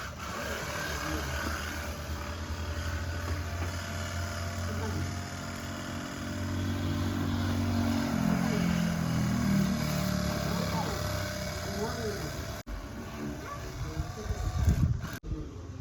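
A cordless, battery-powered pressure washer runs to wash a car, giving a steady motor hum and a hissing spray that swells midway before tapering off, with a person talking near the end.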